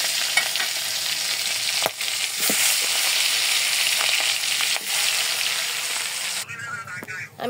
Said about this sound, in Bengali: এখন কড়াইতে দিয়ে একটু ভেজে নেব।